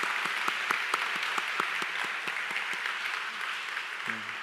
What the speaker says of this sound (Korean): 사랑과 축복의 박수 보내도록 하겠습니다.